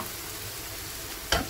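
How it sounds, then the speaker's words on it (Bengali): Chicken roast masala frying in a pan, a steady dense sizzle throughout, capped near the end by one sharp clink of a utensil against the pan. "এখানে চিকেনের রোস্ট চিকেনের মশলাটা কষাচ্ছি।"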